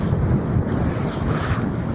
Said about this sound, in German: Wir haben Ostwind.